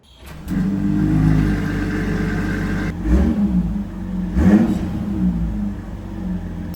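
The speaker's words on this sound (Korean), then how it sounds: "내가 밟았을 때 나오는 이 배기음 등이 굉장히 매력적이게 다가옵니다" A BMW X3 M50 First Edition's mild-hybrid engine rumbles through a deep, throaty quad-pipe exhaust, revving up twice in quick bursts before settling back to a steady idle.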